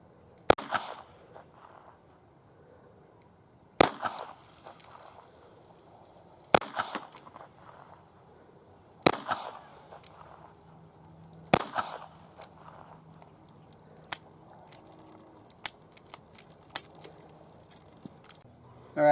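Several sharp revolver shots firing wadcutter bullets into a pile of wet newspaper, spaced a few seconds apart with quieter handling clatter and faint talk in between.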